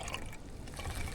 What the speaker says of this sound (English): I'm going to carefully dump some water in there.